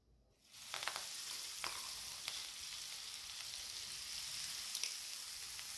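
A ground spice paste roasting in a pan, a steady close sizzle that starts abruptly and holds evenly, with a few faint clicks and stirs on top.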